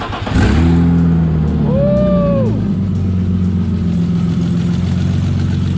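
A classic BMW E30 engine cranks and fires up loudly close by, then settles into a steady, rumbling idle with a couple of brief revs, and a voice speaks over it.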